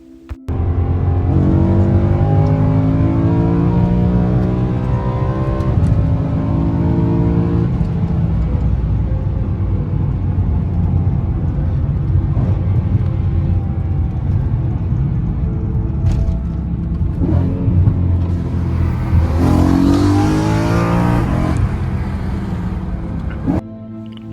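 A BMW M3 E92 engine rumbles loud and close, its deep note rising and swelling as it revs and accelerates without a break, with no voices.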